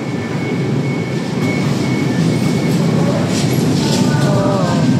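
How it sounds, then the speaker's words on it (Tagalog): An LRT train pulls into a station on the Vito Cruz to Dr. A. Santos line, a steady loud rumble with squealing wheels and rising tones near the end, heard up close on the platform. "parating na po yung tren"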